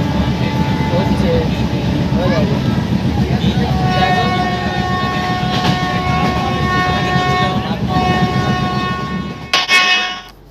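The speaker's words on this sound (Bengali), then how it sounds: "দেখতে দেখতে আমাদের ট্রেন রামনগর স্টেশন ক্রস করছে" Tamralipta Express from Howrah to Digha rolls loudly near Ramnagar, a steady rumble and rattle of the carriages with sustained horn tones in the middle, ending in a sharp clatter.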